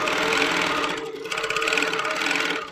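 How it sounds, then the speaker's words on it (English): A longarm quilting machine stitches steadily at a cruise setting of about 125 stitches per minute, a loud continuous mechanical whir with a brief dip and slowdown midway as it pauses and adds an extra stitch. "Every time I pause, it throws in an extra stitch."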